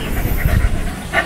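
A dog pants quickly and heavily close by, rapid breathy huffs repeating for about a second.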